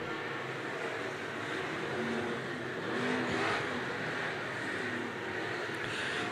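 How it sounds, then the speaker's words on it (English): Pro Stock race cars circling an oval speedway at Cedar Lake Speedway, a steady broadband engine roar from a distance that swells slightly mid-pass, with no talk over it. "Dave Moss, one more trip down the back straight away"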